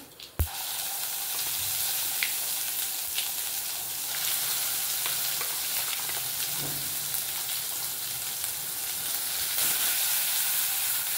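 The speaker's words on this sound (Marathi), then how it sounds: "आता आपण जो मिक्सरला मसाला वाटून घेतलेला आहे तो मसाला आपण तेलामध्ये टाकलाय" Oil sizzles and crackles steadily as freshly ground masala fries in a pan for black ghevda bean curry, after a sharp knock at the start, with no voices.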